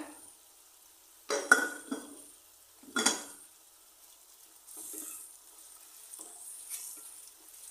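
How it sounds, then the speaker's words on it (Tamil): Onions sautéing in a pan for prawn thokku, with soft sizzling and several distinct scraping stirs of a spoon against the pan, fairly quiet with short pauses between strokes. "வெங்காயம் ஓரளவுக்கு நல்லாவே வதங்கிடுச்சு"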